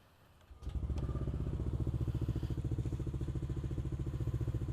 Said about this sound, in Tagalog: Tahimik ang kanyang makina.